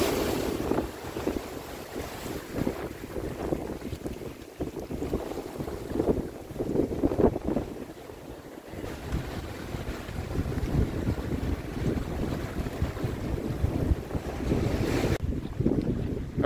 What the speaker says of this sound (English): the river is very, very high and is running very, very fast